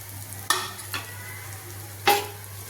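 Pav bread pieces tossed in hot oil with masala in a pan, giving a low steady sizzle with a few sharp scraping stirs, about three distinct strokes, close up and without speech.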